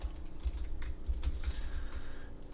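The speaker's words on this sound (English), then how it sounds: "Having a little trouble typing here." Someone types on a computer keyboard while coding a game's player and inventory system, producing a quick, uneven run of close keystrokes over a low background hum.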